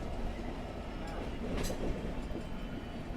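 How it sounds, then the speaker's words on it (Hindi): A diesel locomotive train at an Indian railway station in the early morning gives a steady, loud rumble with rolling rail noise throughout and a brief hiss partway through. "ये रेलवे स्टेशन पे ना सुबह सुबह के वक्त में बहुत ज़्यादा ऐसे आवाज़ सुनने को मिलती है डीजल लोकोमोटिव की"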